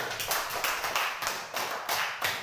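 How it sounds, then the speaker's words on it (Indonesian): Students in a classroom clap in a short, steady rhythmic burst of about eight even beats, close and fairly quiet. "tepuk tangan yang terakhir lagi"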